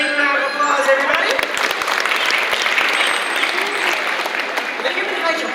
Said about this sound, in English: Give them another big round of applause, everybody.